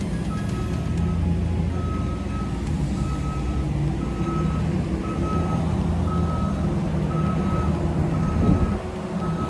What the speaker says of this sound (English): There's a lot of construction going on here, so you're gonna hear a lot of noise.